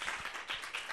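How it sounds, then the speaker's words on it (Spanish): A short burst of audience applause at a comics-themed panel talk, with dense, fairly even clapping throughout the brief moment. "Lo pueden aplaudir si quieren."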